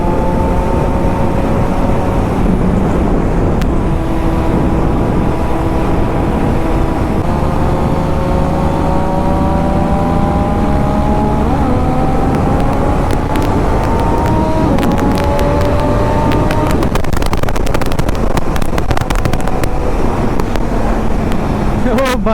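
A Triumph Daytona 675 at full throttle on a highway, its engine note climbing in repeated rising sweeps broken by sharp quick-shifter upshifts, with steady wind rush over the whole ride.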